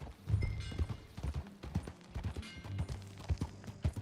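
Horse hooves clip-clopping in Red Dead Redemption 2, a steady walking rhythm of close, distinct hoof falls on hard ground with low rumbling beneath.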